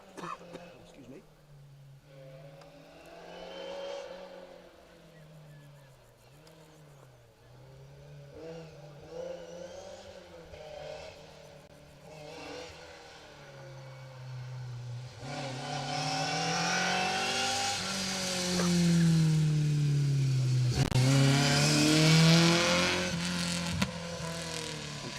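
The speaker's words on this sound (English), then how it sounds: "The Mark 6 rear-wheel drive Escort." A Mark 6 rear-wheel drive Ford Escort rally car's engine on an asphalt rally stage hums at first, then swells into loud, sustained revving with shifting pitch as a commentator talks throughout.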